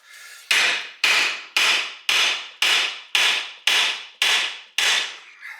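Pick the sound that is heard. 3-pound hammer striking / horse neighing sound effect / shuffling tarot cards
3-pound hammer striking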